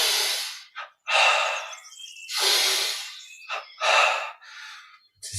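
Several long, breathy inhales and exhales during a guided breathing exercise, close and airy, separated by short silences, with a few quicker sniffing breaths in between.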